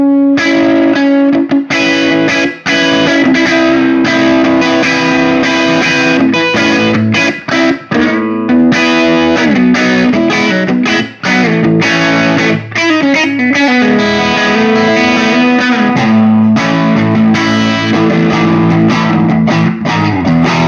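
Electric guitar with Gibson Custombucker pickups in the middle position, Gibson Trad Pro V with mahogany top, played through distortion, with chords and riffs ringing out loud and steady for about twenty seconds, without any talking.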